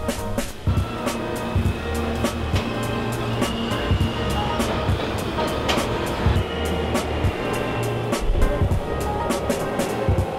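A New York City subway train rumbles steadily with rhythmic clicking of the wheels and a faint murmur of voices.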